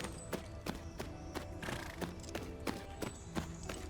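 Horse hooves clip-clop in a steady, even walking rhythm during a riding lesson between cones in Tales of Rein Ravine, each footfall crisp and close, with no talk over it.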